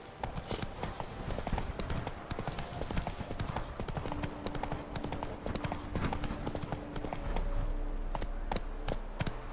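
Roach, Geralt's horse in The Witcher 3: Blood and Wine, gallops with rapid, steady hoofbeats at close range throughout, with faint game ambience underneath and no speech.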